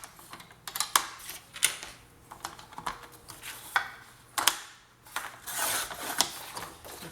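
Two cardboard sheets are cut together with a blade, giving a run of sharp irregular scraping and clicking strokes, close and moderately loud, with short pauses between cuts.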